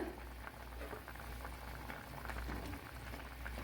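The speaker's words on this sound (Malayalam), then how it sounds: "അപ്പോഴത് നല്ലപോലെ തിളച്ച് വന്നിട്ടുണ്ട്." Pumpkin curry with okra boiling in a pot, a soft, even bubbling simmer heard faintly and continuously, with no talking.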